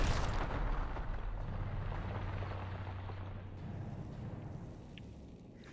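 Reaper shots from the video game Mass Effect 3 detonate in a heavy, rumbling blast that rolls on as a broad roar and slowly fades.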